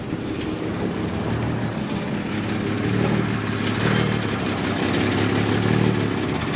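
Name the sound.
M715 Kaiser Jeep engine idling cold and surging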